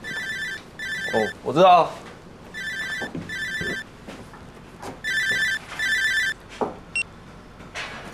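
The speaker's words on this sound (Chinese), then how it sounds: "你电话一直在响哎" A mobile phone ringtone plays in repeated short electronic bursts, loud and close, with brief gaps between them, while people talk over and between the rings.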